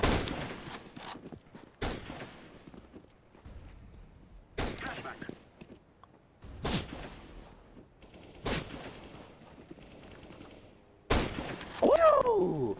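Sharp, loud gunshots from a competitive shooter video game crack out singly at irregular intervals, with quieter background game noise between them and a burst of louder activity at the close.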